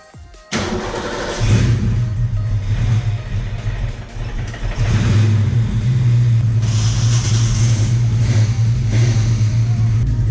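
A Ford Mustang Fox Body, jump-started after a dead battery, cranks and fires up, then settles into a loud, steady idle with a couple of brief revs, close by and without talk.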